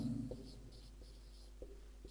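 Marker or chalk strokes on a board during a grammar lesson, a few soft, brief scratching taps spread over two seconds, faint and close, with no talking over them.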